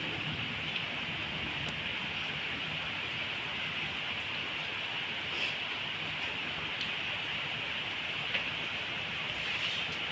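Heavy rain pouring onto a road in Hyderabad, a steady dense hiss of falling water, even and continuous throughout with occasional faint splashes and no talk.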